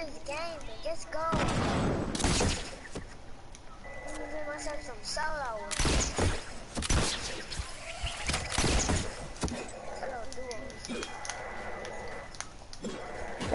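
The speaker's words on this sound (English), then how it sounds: "I hear shooting." Gunfire crackles in scattered sharp bursts, some single shots and some rapid clusters, moderately distant and faint, while people talk nearby.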